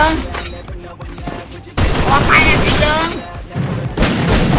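Gunfire in the battle royale game Free Fire: loud, dense bursts of rapid shots and booms crowding together, with excited voices talking and shouting over the shooting.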